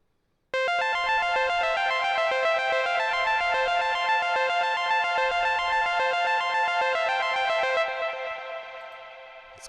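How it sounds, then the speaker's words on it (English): A sustained synthesizer chord from an Inna 2 synth sounds alone, bright and buzzy with distortion and a chorus shimmer, holding steadily for several seconds before slowly fading. "I did this Inna 2 synth, which is pretty cool"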